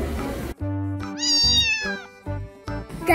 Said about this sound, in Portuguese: Eu acho que eu vi um gatinho.